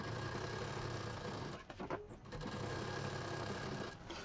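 A sewing machine running steadily while stitching fabric for a party mobile purse, a close continuous whirring drone that briefly slows and pauses midway, then resumes.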